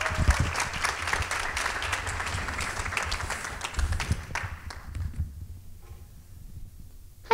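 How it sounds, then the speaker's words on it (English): An audience at a nonprofit awards event claps to welcome a speaker, a lively round of applause that thins out and fades to near silence in the last couple of seconds. "So let's welcome up Terry with a round of applause."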